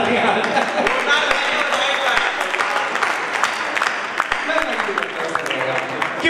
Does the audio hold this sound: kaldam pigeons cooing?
no